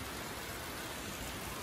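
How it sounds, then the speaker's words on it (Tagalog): Heavy rain pours down in a dense, continuous hiss with no breaks, steady and fairly close, with no voices over it. "ang ngit-ngit ang kalangitan sa lakas ng ulan"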